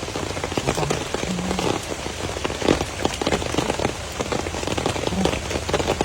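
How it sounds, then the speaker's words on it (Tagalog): Heavy rain patters densely on a hard surface, loud and continuous, with no voices over it. "Daming ulan ito"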